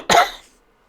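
A single short, dry cough, close and fairly loud, quickly fading to silence.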